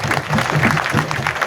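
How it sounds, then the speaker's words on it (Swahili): Students clap for first-year students at a university welcome gathering; dense steady applause fills the short moment, loud and close throughout. "Naomba tuwapigie makofi mengi sana mwaka wa kwanza"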